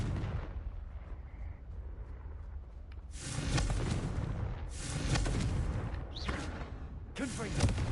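The Confringo fire spell in Hogwarts Legacy sets off booming explosions: a quieter rumbling stretch, then three loud, crackling blasts, each trailing off before the next, close and heavy.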